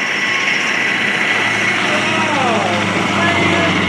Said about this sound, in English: the Lamborghini Hurricane with its powerful V10 engine